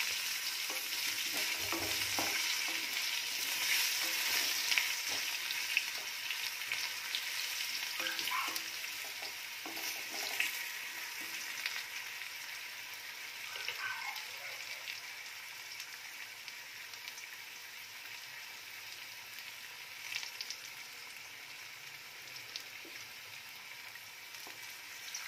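Potatoes stirred and fried in a pan, a soft, continuous sizzle with occasional scrapes as they are pushed around, fairly quiet and without voices.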